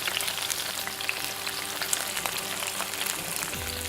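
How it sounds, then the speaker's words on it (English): Vegetables for ratatouille sauté in a hot pan, giving a steady, close crackling sizzle with small pops throughout and no voices. "you want them to saute"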